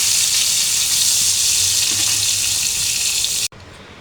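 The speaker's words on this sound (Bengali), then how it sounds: "এখন পটলটা একটু ভেজে নিচ্ছি।" Pointed gourd (potol) frying in oil in a pan, a steady broadband sizzle held close and loud for about three and a half seconds before cutting off abruptly.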